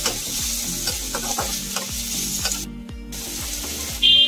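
Capsicum and onions frying and being stirred in a pan for bread pizza, with a steady close sizzle and repeated scraping stir strokes, ending in a sharper burst of frying.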